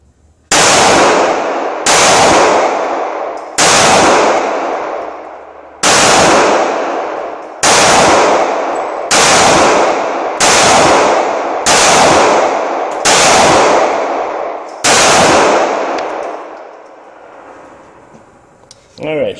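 A Taurus PT111 pistol fires about a dozen sharp, loud shots at an outdoor shooting session, spaced roughly one to two seconds apart, each with a short echoing decay before the slide locks open.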